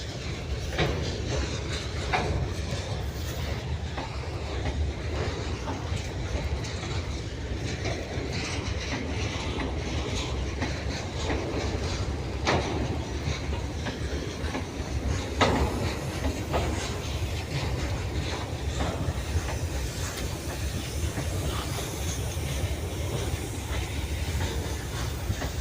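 A train running along a track through jungle, a steady loud rumble with rhythmic clickety-clack of the wagons and a faint hiss, continuous throughout and free of speech.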